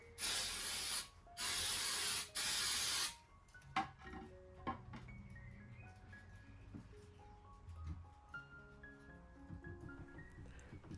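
Super glue activator sprays onto furniture legs in three loud, hissing bursts of about a second each, close up, followed by faint handling noises and quiet workshop background.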